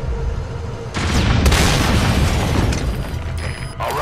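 Loud explosion as an armored vehicle is destroyed in Metal Gear Solid V: Ground Zeroes, a sudden booming blast that erupts after a second and rolls on with rumbling debris and crackling bursts, no talking.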